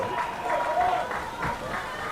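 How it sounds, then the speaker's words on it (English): Home fans in the stands at a high school varsity boys soccer match clap with a moderate, scattered round of applause beneath a commentator talking. "gets a nice round of applause from the Wethersfield faithful here in the stands"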